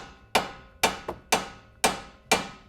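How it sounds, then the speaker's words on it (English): Five sharp metallic hammer blows on a Ford Bronco Sport steering knuckle ring out at an even pace, with one lighter tap among them, each strike close and ringing briefly. "You just take your hammer and just kind of strike it"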